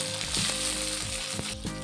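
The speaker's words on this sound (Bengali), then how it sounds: "তেলটি গরম হয়ে গেছে, দিয়ে দেবো পেঁয়াজ কুচি।" Chopped onions sizzle steadily in hot oil in a kadai, a loud close crackling fry with faint stirring scrapes throughout and no voices.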